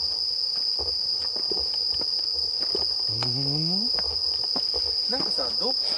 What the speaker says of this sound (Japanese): 確かに虫の声以外に何も聞こえないもんな。